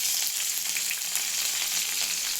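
Curry leaves and dried chillies frying in hot oil, giving a steady, close sizzle with crackling pops throughout and no voices.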